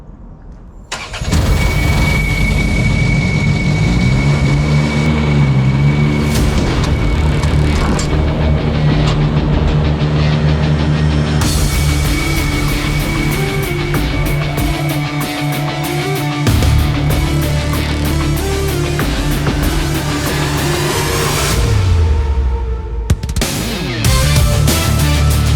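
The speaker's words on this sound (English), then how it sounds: "now I'm gonna get the diesel engine warmed up" The diesel engine of an OMME 2750 hybrid tracked lift starts and warms up, running loud and close with a steady mid-pitched drone that shifts in tone partway through, then cuts briefly before resuming.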